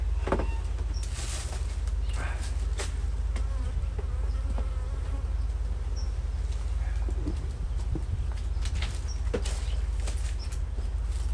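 Honeybees buzz continuously around a box outdoors, a dense droning swarm with individual insects zipping close past the microphone.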